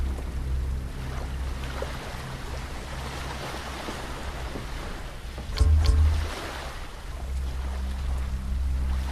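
Sea waves in a World War I horror game, a continuous rolling wash of surf with a low rumble and a brief louder surge midway, steady and fairly close with no talk.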